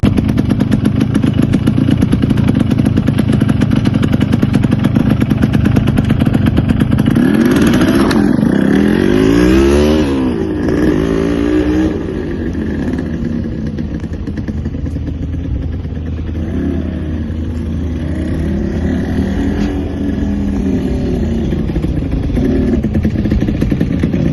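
A two-stroke motorcycle with a broken clutch cable runs loud and close, its engine buzzing steadily. Around the middle of the ride it revs and shifts pitch, then settles into a lower, rougher drone.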